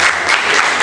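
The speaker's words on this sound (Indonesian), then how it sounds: "Tepuk tangan." Loud, dense applause from a crowd of students at an Islamic boarding school year-end celebration, a brief continuous burst close by.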